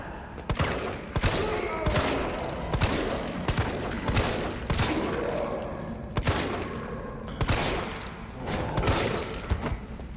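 Gunfire in the video game Resident Evil 3 Remake, with shotgun shots among many sharp, loud blasts spread irregularly over a busy fight, and someone talking over it.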